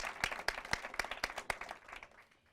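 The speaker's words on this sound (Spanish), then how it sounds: "Un fuerte aplauso para ellos" Audience applause welcoming guests at a panel talk, with several sharp distinct claps standing out over a crowd clapping that fades away toward the end.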